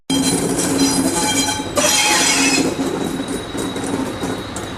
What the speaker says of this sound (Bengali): হঠাৎ স্টেশনে ট্রেন প্রবেশ করল